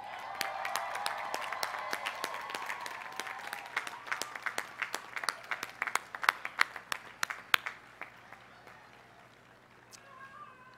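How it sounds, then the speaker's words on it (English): At a Cal Poly Pomona commencement, graduates and guests stand and clap, a broad crowd applause that gives way to sharper, more separate claps, then fades into quiet near the end. "a well-deserved round of applause."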